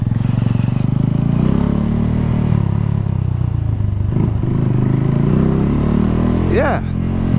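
A motorcycle engine drones loudly and steadily while riding over a rough, broken road through a Jamaican community, with clattering and scraping from the bumpy surface and a rider's voice talking over the engine noise.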